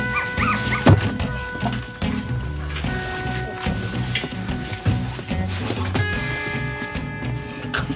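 A dog yipping and barking in short bursts, with whimpers in between, close and fairly loud in an indoor scene with music and other sounds beneath.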